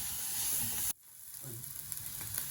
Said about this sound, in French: Pour bien faire revenir nos épices, pour qu'ils puissent pas brûler